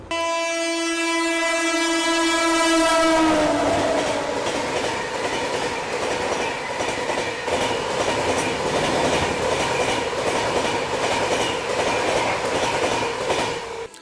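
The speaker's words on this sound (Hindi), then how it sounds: "पटना तेजस राजधानी जो है वो भी निकल रही है प्रयागराज की तरफ" A Patna Tejas Rajdhani Express passes Naini Junction, opening with a loud sustained multi-tone horn blast that gives way to the heavy roar and rhythmic clatter of coaches rolling by close and loud.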